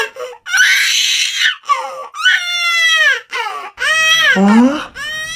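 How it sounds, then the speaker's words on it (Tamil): A baby cries at night in long, wailing bursts with short breaths between them, loud and close, the cries rising and falling in pitch. "திரும்பவும் நைட்டு ஏதோ குழந்தை அழுகிற மாதிரி சத்தம் கேக்குது"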